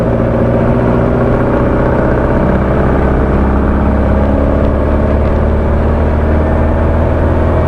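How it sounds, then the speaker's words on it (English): A car motor drones loud and constant from inside the vehicle for the whole stretch, a deep steady rumble with no talking over it. "I have to talk over the motor. You might not realize it, but it's loud as hell."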